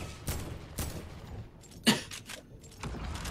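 Gunfire in a video game: a few sharp, separated shots with short echoing tails, one louder crack in the middle, over a quiet background.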